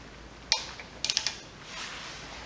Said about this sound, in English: try to take this bolt off